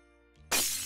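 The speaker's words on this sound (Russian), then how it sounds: "ты что, снова игрушку разбила?" Glass Christmas tree ornaments shatter in a single sudden, loud crash of breaking glass, followed by a brief jangling tail after a quiet lead-in.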